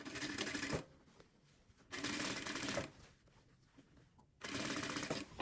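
A sewing machine runs a seam along the edge of a dress-coat in three separate bursts of fast, rattling stitching, with quiet gaps between runs, heard close and alone.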